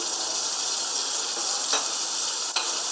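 A constant hot-oil sizzle of cumin seeds in butter and oil hisses steadily, with a couple of small clicks and pops near the end.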